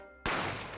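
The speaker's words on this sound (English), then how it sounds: "I didn't have time to think about where the sound of the gunshot had come from." A single sharp gunshot crack in The Great Ace Attorney Chronicles video game, loud and abrupt after a quiet musical backdrop, with a broad noisy burst that slowly decays.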